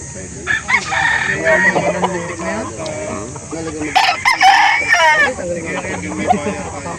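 Roosters crow repeatedly at a chicken market in Calauan, Laguna, their calls overlapping amid clucking fowl and a busy crowd, while people talk nearby.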